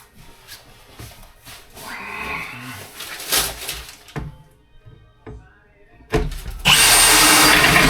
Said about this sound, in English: I just want to pre-drill